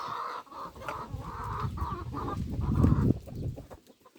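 Several chickens cluck and murmur close by in an uneven, overlapping chatter, with no talking.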